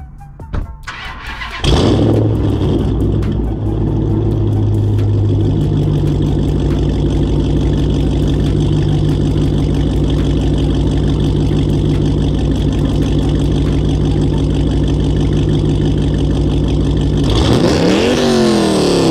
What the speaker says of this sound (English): All right, so that's the sound of the exhaust,